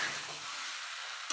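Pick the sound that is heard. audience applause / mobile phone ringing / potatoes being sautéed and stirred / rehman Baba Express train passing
potatoes being sautéed and stirred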